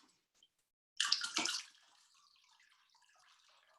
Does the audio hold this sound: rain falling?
no